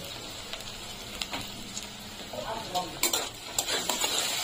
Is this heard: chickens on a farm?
no